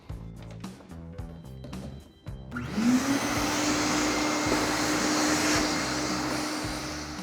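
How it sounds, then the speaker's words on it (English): Following brief music, a vacuum cleaner switches on and runs with a rising whine and steady roar, sucking dust and debris from a table saw, close and loud with no talking. "It's also a good time to brush or vacuum away dust and debris."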